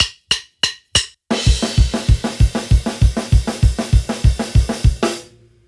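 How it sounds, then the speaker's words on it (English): Four sharp drum hits, then a fast driving down thrash beat on a drum kit, starting on the snare with the kick following, alternating steadily with crashing cymbals, loud and close, ending on a ringing decay. "the kind of down thrash beat where you would be starting on the snare and the kick would be following"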